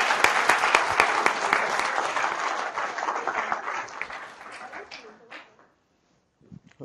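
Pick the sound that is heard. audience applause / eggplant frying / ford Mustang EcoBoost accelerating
audience applause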